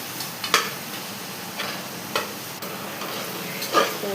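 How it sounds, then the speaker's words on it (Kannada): Tomatoes for pav bhaji cook in a pan, a low steady sizzle broken by several sharp tapping and mashing knocks from a utensil against the pan at irregular intervals, close by and with no voices. "ಬೇಯೋವರೆಗೂ ಟೊಮ್ಯಾಟೊನ ಸ್ಮ್ಯಾಶ್ ಮಾಡ್ಕೋಬೇಕು"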